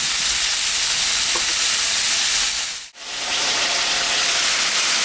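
Pumpkin and potato sizzle loudly in a fish curry pan, a steady close frying hiss that briefly drops out near the middle before resuming at full strength.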